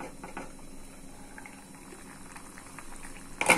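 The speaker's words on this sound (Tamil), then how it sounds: "பாருங்க நல்லா கொதிச்சிச்சு," Paneer butter masala gravy boiling in a covered pan, a soft continuous bubbling and popping close by, with a louder burst at the end.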